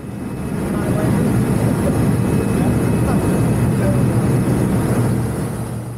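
Steady, loud aircraft cabin drone from a small airplane as it prepares to land, a broad low rumble holding for the whole stretch with faint voices underneath.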